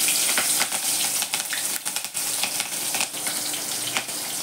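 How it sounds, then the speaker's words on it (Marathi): Green chili and cumin seeds hit hot oil and sizzle steadily, close and fairly quiet, with brief crackling bursts and no talking. "तापले तेल, त्यात मी हे बघा ही मिरची आणि जिरं टाकते."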